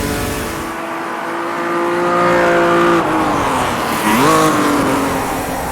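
Race car engine in Automobilista 2 at Bathurst, 1983-era car held in third gear: a steady loud engine drone that climbs in pitch, dips briefly, then revs back up, close and continuous with no talk.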